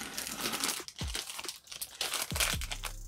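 A packet of Wet Ones antibacterial fragrance-free wipes crinkles as it is pulled from a zip pocket of a Givenchy Antigona bag, giving several close plastic crackles and rustles with a couple of soft thumps.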